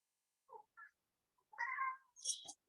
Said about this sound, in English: The cat's coming to join me.